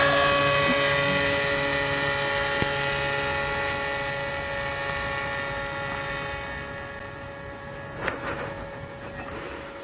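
A small drone, a 3-in-1 FPV quadcopter, takes off with a steady high whine of tonal buzzing that slowly fades as it climbs away, and a brief louder burst near the end.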